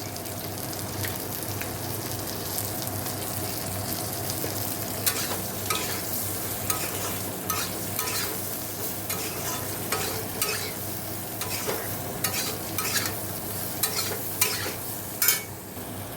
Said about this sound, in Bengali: জিরের গুঁড়ো আর একটু কাশ্মীরি লঙ্কার গুঁড়ো দিয়ে ভালো করে কষে নিয়ে